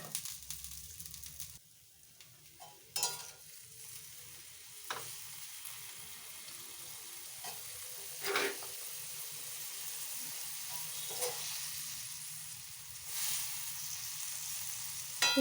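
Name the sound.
spicy cauliflower curry frying and being stirred in a pan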